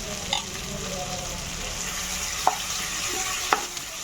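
Ginger-garlic paste frying in a pan with tomatoes and onions gives a constant crackling sizzle, punctuated by a couple of crisp spoon taps against the pan.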